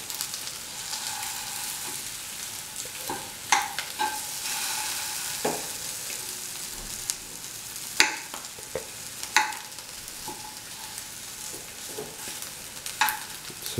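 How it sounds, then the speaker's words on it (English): Potatoes being mashed for chicken cutlets in a kitchen, with soft squelching and scraping plus occasional sharp knocks of the utensil against the pot, close and unaccompanied by speech. "Now the potatoes can be mashed."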